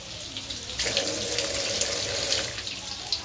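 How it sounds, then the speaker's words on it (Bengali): Tap water runs steadily into a sink while chicken meat is rinsed in a home kitchen, a loud constant splashing rush that starts abruptly and continues alone. "এই দেখো জল দিয়ে রেখে দিলাম"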